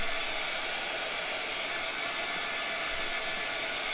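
A heat tool blows a steady, continuous hiss to dry chalk paste on a box frame, loud and unbroken throughout with no talking.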